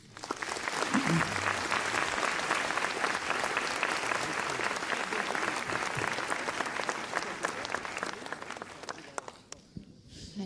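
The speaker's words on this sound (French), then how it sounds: "je pense qu'on peut vous applaudir." Audience applause at the close of a public talk by François Hollande on France and a changing world, a dense, steady wash of many hands clapping for about ten seconds before fading out abruptly, with a faint voice murmuring underneath.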